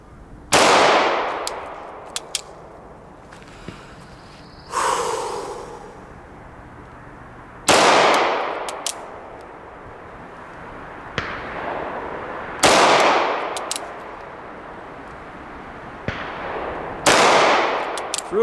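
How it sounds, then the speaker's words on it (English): Sig Legion 9mm pistol firing double-action shots, four loud sharp reports spaced several seconds apart, each with a long ringing decay, plus smaller clicks and handling noises between them, no talking. "I'll shoot 5 double action shots."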